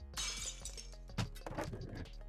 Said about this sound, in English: Glass smashed.